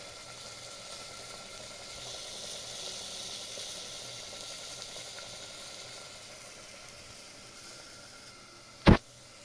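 Spice masala for chicken cooking down in a pan, a soft, steady sizzle and low bubbling close by, ending with one sharp clank near the end.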